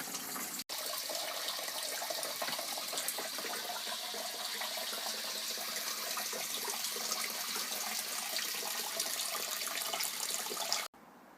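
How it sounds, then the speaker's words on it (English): Sparge water for a homebrewed real ale pale drains steadily through the malt into a collecting bin, making a continuous, even trickling and splashing rush that holds at moderate level for the whole stretch with no talk. "which is then draining through the malt and extracting the sugars, and it's being caught in the bin here."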